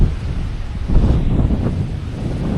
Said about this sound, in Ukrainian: Ось ми дійшли до пляжу біля знаку Тропікрака